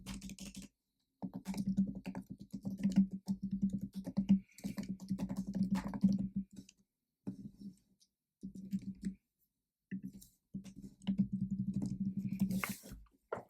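Code being typed on a computer keyboard: quick bursts of close, crisp key clicks with short pauses between runs, fairly quiet and with no talking.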